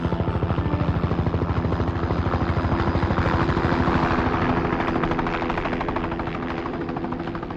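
A helicopter air ambulance flies with a loud rhythmic rotor thudding over a deep engine drone, steady throughout and close, slowly fading slightly toward the end.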